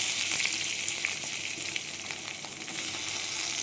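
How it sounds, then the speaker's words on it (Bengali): Boiled potatoes fry in a wok of mixed refined and mustard oil with panch phoron, giving a steady, close, even sizzle that holds throughout with no talking. "পাঁচফোড়নটা দিয়েই আমি এখন এই আলুটা একটু ভেজে নেব"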